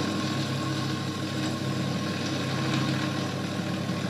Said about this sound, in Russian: Есть небольшой гул от двигателя,